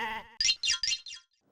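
A goat led into a police station gives four loud, close bleats in quick succession, each rising and falling, after a short voiced sound at the start.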